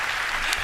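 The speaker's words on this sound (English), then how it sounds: "The crowd liked it." Audience applause at the Ubisoft E3 2016 conference, a dense steady wash of clapping from a large crowd filling the short moment.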